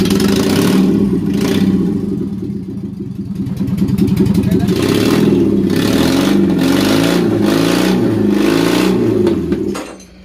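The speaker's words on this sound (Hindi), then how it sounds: "अभी गाड़ी तो स्टार्ट हो गया" Maruti Gypsy engine running without a silencer, loud and raw, rumbling at idle then revving up in repeated surges for about ten seconds before cutting off abruptly.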